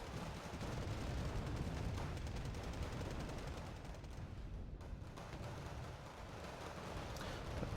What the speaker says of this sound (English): they bombard my Brennis